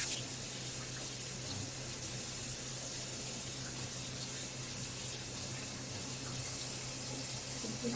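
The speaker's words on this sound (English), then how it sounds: "Wash my gloves." Tap water runs steadily into a sink while gloves are washed during a yarn dyeing session, a constant close hiss with no pauses and no talk.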